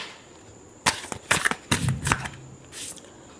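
Tarot cards riffle through a final shuffle in a few short, crisp bursts of papery flutter, alone against a quiet room.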